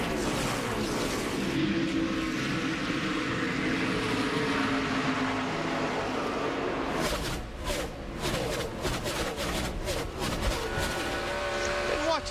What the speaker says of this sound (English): e Johnson in the 48, Matt Kenseth in the 17, they clear the lap traffic